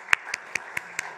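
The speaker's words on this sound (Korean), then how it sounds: "다시 한번 감사와 우리 하나님께 영광의 박수 한번 드리겠습니다" A few hands clap in a slow, even rhythm inside a Korean church service, six sharp distinct claps spaced evenly, fairly close and moderately loud, with no talk over them.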